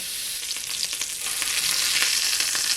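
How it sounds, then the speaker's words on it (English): A ground beef hamburger patty fries loudly in a Nostalgia MyMini skillet, with steady close sizzling and dense splattering crackle throughout and no voices. "There's a whole lot of splattering going on."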